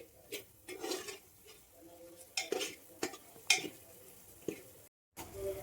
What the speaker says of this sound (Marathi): दोन मिनिटं हे शेंगदाणे ह्याच्यामध्ये भाजून घ्यायचे